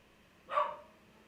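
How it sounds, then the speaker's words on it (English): A pet dog gives a single short bark, close by and moderately loud against an otherwise quiet background. "There's my dog."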